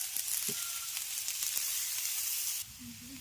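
Carrots and beans fry together in a pan for fried rice, giving a steady soft sizzle with a few faint stirring clicks; the texture thins out near the end.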